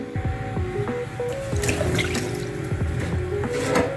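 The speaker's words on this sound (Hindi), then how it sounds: "चावलों को धो लेते हैं" Rice is washed by hand in a bowl of water for chicken biryani, with close sloshing, dripping and splashing in irregular bursts throughout, no talking.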